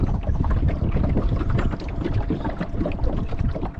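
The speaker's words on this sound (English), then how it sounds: "That's the water lapping on a clinker hull." Water laps and slaps against the wooden planks of a rare Fazackerly clinker dinghy driven by a quiet ePropulsion Spirit Evo electric outboard, a close, constant churn with gusty wind rumbling on the microphone.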